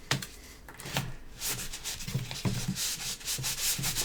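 Material being rubbed or sanded by hand while building a cage, heard as close, repeated scratchy strokes in an uneven rhythm, loud and clear with no talk.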